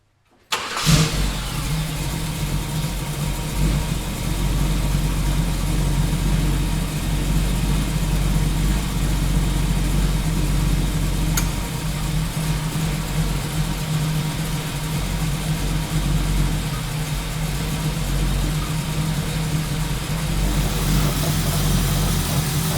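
A 1967 Chevy Camaro engine turns over and catches, then settles into a steady, loud, rumbling idle that runs on evenly for a long stretch, close by.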